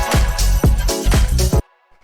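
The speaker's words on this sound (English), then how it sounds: "So this is just this nice brass stab that's in key with the track." A deep house brass stab sample, in key and run through reverb and saturation, hits four times in a rhythmic pattern, loud and close, and then cuts to silence.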